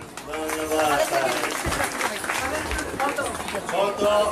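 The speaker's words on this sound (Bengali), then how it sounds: "আমরা সবাই করতালি দিই।" A crowd at a jubilee prize giving applauds a first-prize winner, with moderately loud clapping mixed into lively voices and crowd chatter.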